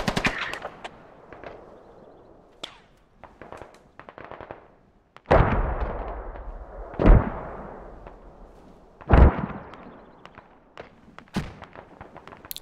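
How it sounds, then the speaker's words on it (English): Mortar HE rounds firing and impacting in the video game Squad, a series of sharp separate blasts with rumbling tails spread across the clip, some louder and heavier than others, set against scattered distant gunfire. "We're gonna start mortaring it."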